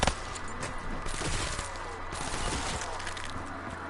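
Rapid automatic fire from the VMP submachine gun in Black Ops 3 Zombies, a dense continuous burst of shots over steady game noise, with no pause across the clip.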